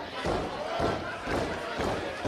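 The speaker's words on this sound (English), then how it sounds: "Crowd's starting to come alive" Worcester wrestling crowd at a Wrestling Open tag match cheering and stirring, a rough roar of voices swelling in waves with thuddy low bumps underneath, moderately loud and close, mixed with talk.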